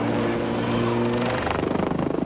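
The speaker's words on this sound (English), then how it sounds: "I've always wondered how helicopters actually ever stayed in the air." Helicopter engine and rotor noise from a helicopter flying aerobatics at the 1993 Biggin Hill International Air Fair, a steady loud drone that turns into a rapid rhythmic chop near the end as the aircraft maneuvers.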